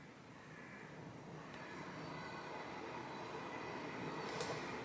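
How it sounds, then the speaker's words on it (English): A train rumbles steadily in the background outdoors, a low continuous roar that slowly grows slightly louder over several seconds, faint and distant with no voices. "there's a train in the background just to make it even better"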